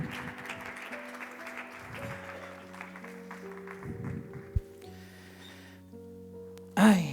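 Audience applause for the director of a radio drama production, sparse clapping under sustained musical tones, with a brief sharp noise near the end.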